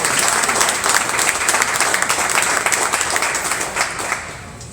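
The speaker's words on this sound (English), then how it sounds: "Y'all can clap for that." Sustained audience applause fills the room at a civic announcement about Google Fiber service coming to Atlanta neighborhoods, dense steady clapping that tapers slightly toward the end.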